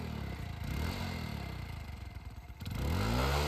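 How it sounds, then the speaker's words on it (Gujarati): A motorcycle engine idles and revs close by, its low throbbing running unevenly with a clattering rattle before it picks up strongly near the end. "બાઈક તો ચાલુ છે"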